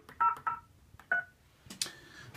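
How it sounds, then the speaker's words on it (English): Telephone keypad tones dialing into an Asterisk phone system linked to MythTV, several short distinct beeps in an uneven sequence followed by a brighter tone near the end. "So if I phone up MythTV"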